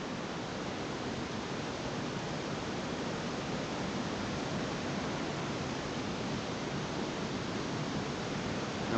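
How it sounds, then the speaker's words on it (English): Small secondary waterfall on a creek in the Blue Mountains, a continuous broadband rush of falling water, steady and unbroken, soft and somewhat distant, with no voices. "Got a little secondary waterfall over here."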